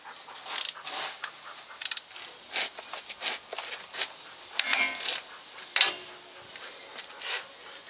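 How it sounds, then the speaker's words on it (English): Metal clicks and ratcheting from a torque wrench tightening wheel hub bolts to 133 on a 1999-2006 Chevrolet Silverado, with irregular close bursts of clatter and clanks scattered through. "I'm going to see if I can manage to get it behind here to actually get these tightened down."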